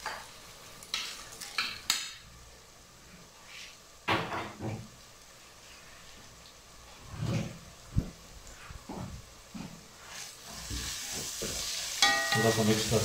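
Ginger, garlic and red chilies frying in a pan, soft sizzling under intermittent stirring scrapes and clinks of a utensil against the pan, close and moderately loud.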